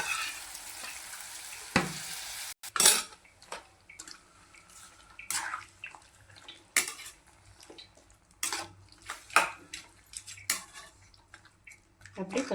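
Mutton with cinnamon, cloves and masala goes into a hot pan for Tamil mutton chukka, giving a burst of sizzling frying followed by scattered clinks and scrapes of a utensil stirring against the pan.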